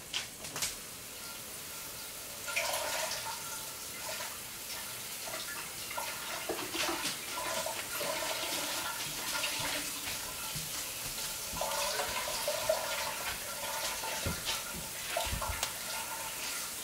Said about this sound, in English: I'm just going to go rinse the 1 cup of quinoa so that it's ready to add